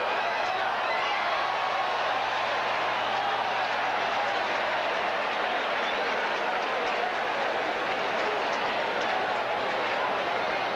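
A baseball crowd at a 1985 Cubs–Dodgers game roars loudly and steadily throughout, a dense wash of cheering with no pause as the Dodgers stand one strike from victory.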